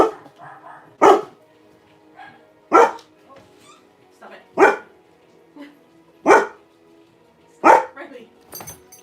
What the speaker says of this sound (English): By the way, the dog's here.